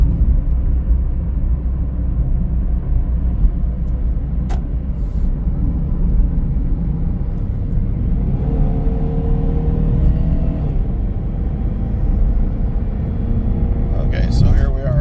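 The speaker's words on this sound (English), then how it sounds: "let's get the car up to freeway speed" A Chrysler PT Cruiser with 61K miles accelerating up to freeway speed, heard from inside as a loud, continuous low engine and road rumble that rises in pitch as it gains speed, with someone talking over it.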